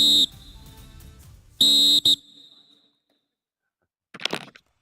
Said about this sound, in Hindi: और क्या सीटी बजने वाली है यहाँ पर।